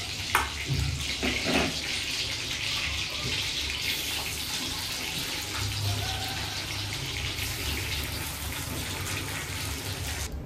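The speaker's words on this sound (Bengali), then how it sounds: "বেশি ভাজতে হবে না, জাস্ট 2 মিনিট ভাজলেই হয়ে যাবে" Prawns fry in a pan for a daab chingri dish, giving a steady, dense sizzle that runs without pause at close range, with a few soft clinks near the start.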